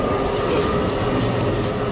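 A train running, heard from inside the carriage: a steady, even rumble and hum with no voices and no distinct breaks.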